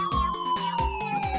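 An ambulance siren wails loud and near in a steady, repeating two-part cycle, its tone sliding and cutting back in over about a second and a half, with no voices.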